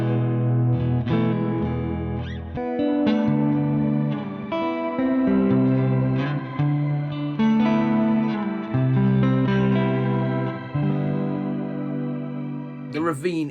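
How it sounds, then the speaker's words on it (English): Electric guitar played through a Mosky M series always-on reverb pedal, sustained chords and notes ringing out with a lush wash of reverb trailing behind them, steady and full throughout. "it is a solid always on reverb"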